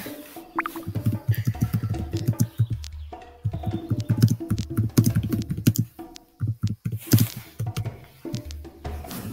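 Rapid, uneven clatter of keys being typed on a laptop keyboard, close up, with short pauses between bursts.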